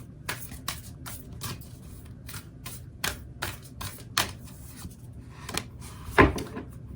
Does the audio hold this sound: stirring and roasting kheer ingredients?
no